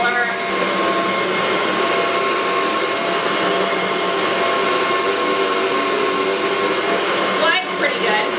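A Kenmore vacuum cleaner with its brush roller engaged runs on carpet, a loud, constant motor whine with a steady high tone, close by and uninterrupted.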